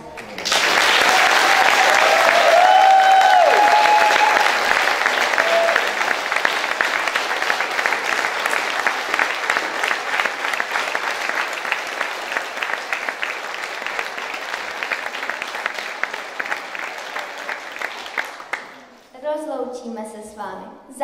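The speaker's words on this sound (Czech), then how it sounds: "Potlesk" Strong, continuous audience applause at a school academy performance evening, holding steady for a long stretch before fading, after which a voice begins speaking.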